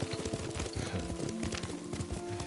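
Horse hooves clop in a quick, steady gallop rhythm while riding in Ghost of Tsushima, close and prominent over a low musical drone.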